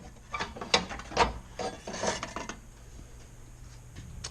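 A hand ratchet works 10mm bolts loose from an intercooler bracket on a Ford F150, a few quick bursts of clicking close up, then quiet.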